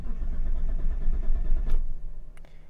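A Mitsubishi 3000GT VR4 engine cranks with a loud, low rumbling churn up close, then the sound drops off, followed by a couple of brief clicks.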